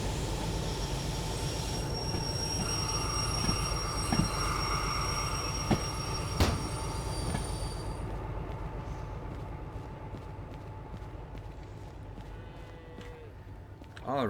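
A DH4 locomotive in Derail Valley braking to a stop, with steady rumble, squealing wheels and metallic clunks that fade near the end, while someone talks over it.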